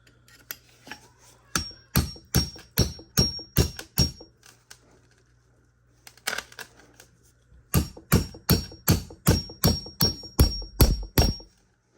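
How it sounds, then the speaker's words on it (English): Repeated metal hammer blows punching a pin out of a differential housing during a Traction Concepts limited-slip conversion on a boosted Dodge Charger, with two bursts of rapid, evenly spaced loud strikes separated by a short pause and a few lighter taps. "we're gonna punch that pin through the bottom."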